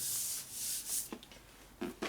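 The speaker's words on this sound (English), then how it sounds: "Clean out the grit off your bench you just made." Gritty abrasive debris is wiped off a workbench in a motorcycle build shop, with a few soft brushing and rubbing strokes up close, followed by brief light scuffs.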